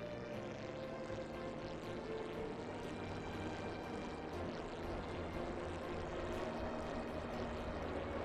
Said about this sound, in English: I'll crank up the throttle again.